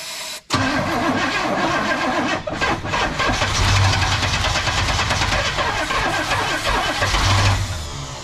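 An old Squarebody Chevy truck engine cranks and catches, then runs loud and rough with uneven revving for several seconds, close up and without talk.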